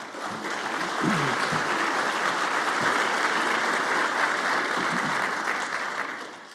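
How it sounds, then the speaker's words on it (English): A meeting audience at a lunar science conference gives a panelist a round of applause, with dense steady clapping that swells and then fades toward the end. "Just give her a round of applause."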